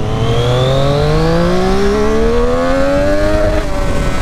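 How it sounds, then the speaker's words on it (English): A Triumph Street Triple RS motorcycle accelerates hard, its loud close engine note climbing steadily in pitch over several seconds as revs rise, with a dense buzzing whine and wind roar and no talk. "This bike pulls crazy after 7000 RPM."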